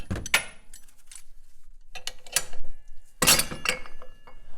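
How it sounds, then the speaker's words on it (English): Ball joint press screw on a Jeep JL Wrangler being cranked by hand with a 22mm socket, sparse close metallic clicks and clinks in short bursts separated by quiet pauses. "We're going to go ahead and crank on this by hand, and then it should just pop right into that cup for us."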